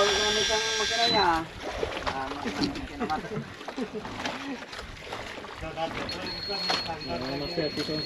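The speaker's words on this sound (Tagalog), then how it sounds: "Bago pa gamit ang makina niya." A fishing boat's new engine runs steadily at sea on a jigging trip, a droning motor tone heard mostly beneath ongoing talk and the slosh of water.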